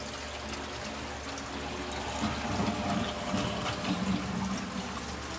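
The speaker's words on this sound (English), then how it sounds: "what it is the cold water coming up, cycling through the water heater and back out" Cold water rushes through the plumbing of a converted school bus, cycling through the water heater and back out, as a steady, close gurgling flow with no talking.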